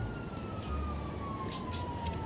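Police siren in GTA V wails steadily throughout with a slowly falling tone, loud and continuous over low engine rumble from the game.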